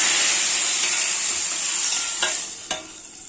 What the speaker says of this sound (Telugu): ఇప్పుడైతే తాలింపు పెడుతున్నానండి